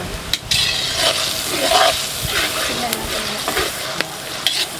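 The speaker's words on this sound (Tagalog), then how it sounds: "Umpisa na natin lutuin ang ating ano, chili oil." Chili oil sizzling and crackling in a hot pan while being stirred, with constant frying hiss, scraping stir strokes and a few clinks of utensil against metal.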